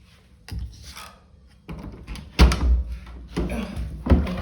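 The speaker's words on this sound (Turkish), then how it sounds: "Kapıyı itmekte zor oluyor" A door is pushed with effort, producing a series of heavy thunks and scraping knocks at close range, several separate bumps spread across a few seconds.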